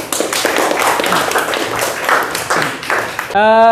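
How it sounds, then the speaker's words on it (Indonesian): Students in a classroom clap together, a loud, busy patter of hands lasting a few seconds with voices mixed in, before it cuts off abruptly near the end. "Oke, terima kasih, tepuk tangan."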